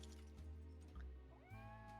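A cat meows in a Nancy Drew video game, a single rising mew standing out over a steady background music bed.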